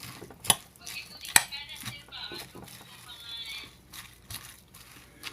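Waldorf salad with mayonnaise dressing is tossed in a bowl with utensils, giving scattered clinks, a couple of sharp taps and soft wet stirring, close by with a voice heard briefly.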